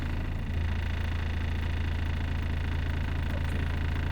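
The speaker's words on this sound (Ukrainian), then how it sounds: "Запускаємо ще раз мотор." Volvo FH truck diesel engine running steadily just after a restart, a constant low idling drone with even hum and no voices.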